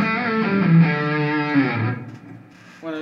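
Distorted electric guitar rings out in sustained, gritty chords and held notes, loud and close, then cuts to a brief gap before another chord starts; no talking.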